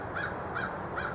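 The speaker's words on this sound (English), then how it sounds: "There's Mr. Crow." Three evenly spaced caws from a crow carry outdoors over a yard, moderately close, with a low steady background hum and no talking.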